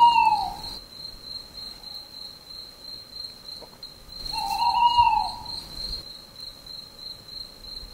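Tawny owls hoot at night, two long tonal calls a few seconds apart, heard over a constant high, steady chorus of crickets.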